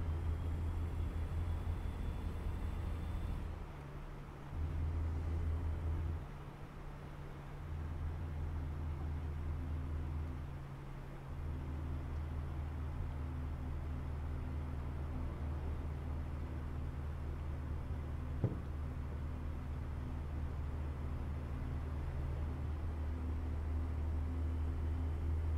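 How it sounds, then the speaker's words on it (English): A truck engine in American Truck Simulator drones steadily with a low, even hum that drops out briefly a few times, then carries on unchanged. "I like the sound of this truck"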